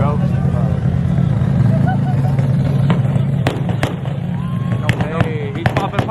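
Car exhaust popping and backfiring at a rev battle, a steady loud engine drone punctuated by sharp cracking pops toward the end, with people talking over it.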